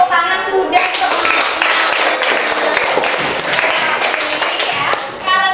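A school class claps together in a dense, steady burst of hand clapping lasting several seconds, close and loud, with a teacher's voice heard briefly before and after.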